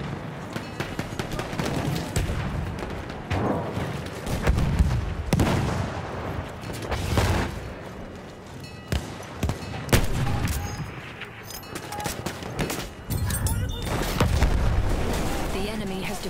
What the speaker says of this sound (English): Grenade out! Watch it!